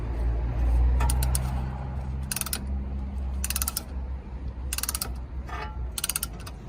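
Ratcheting clicks of a brake caliper piston tool being turned on a 2009-2014 Honda Insight Hybrid, several quick bursts of close metallic clicking with short pauses between, alone with no talking.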